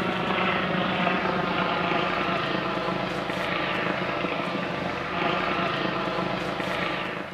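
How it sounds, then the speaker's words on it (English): A helicopter flying over, its steady rotor thrum and engine roar loud and continuous throughout, swelling slightly as it passes. "Actually, it's a helicopter."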